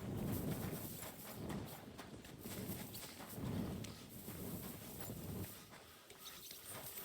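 Horse hooves clip-clop at a steady walking pace in Kingdom Come Deliverance II, a quiet medieval stable scene with faint ambient birdsong.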